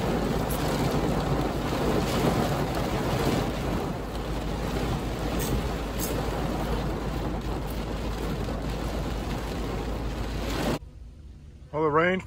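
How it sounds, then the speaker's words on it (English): Steady, dense roar of heavy rain with thunder rumbling low throughout, loud and continuous, cutting off abruptly near the end to quieter sounds. "Well, it rained for quite a while."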